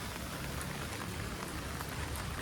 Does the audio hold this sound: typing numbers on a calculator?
no